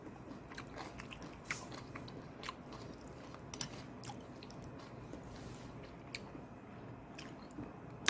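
Close, quiet chewing of abalone porridge topped with kimchi, with soft wet mastication and occasional crunchy bites running steadily throughout, no talking.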